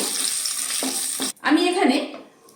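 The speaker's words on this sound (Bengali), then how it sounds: "তেলের মধ্যে দুটো গোটা শুকনো লঙ্কা এবং কয়েক টুকরো তেজপাতা দিয়ে দেব একটু নাড়াচাড়া করে নেব" Whole dried red chillies and bay leaf pieces frying in hot oil, a bright crackling sizzle with a brief stir and scrape partway through, close and fairly loud.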